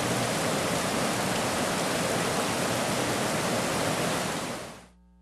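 Rainbow Falls in the Glen of Pools pours steadily, a dense broadband rush of falling water that stays constant and loud before cutting out abruptly near the end.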